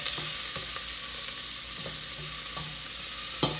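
Tomatoes sautéing in a pan for Haitian bread soup make a steady bright sizzle, with a few soft stirring scrapes and clicks at intervals. The frying is close and fairly quiet, and no one speaks.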